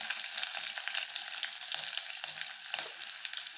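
Mustard seeds, curry leaves and small onion pieces fry in hot oil, giving a steady close sizzle with faint crackles and a few soft scraping stirs, no voices.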